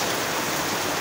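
Rain falling steadily outdoors, a dense even hiss of drops on surfaces heard alone and close for a brief moment.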